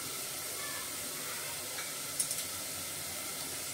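Onion frying in a pan with turmeric, coriander powder and ginger-garlic paste for mutton paya soup, a continuous soft sizzle and hiss with a few small clinks of stirring near the middle.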